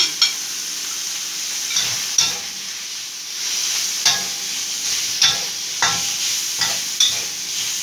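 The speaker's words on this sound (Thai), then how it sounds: "ผัดต่อไปให้หอมนะคะ" A Thai curry stir-fried in a pan with fingerroot, green peppercorns and kaffir lime leaves, giving a loud steady sizzle with regular scraping strokes of a spatula every second or so, close up and free of talk.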